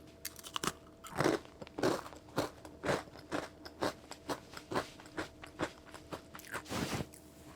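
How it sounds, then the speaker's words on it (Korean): Crunchy bakery bread being bitten and chewed close to the mic, a steady series of sharp crackling crunches with short pauses between bites, and no talking. "자 윤다리부터 먹어볼게요"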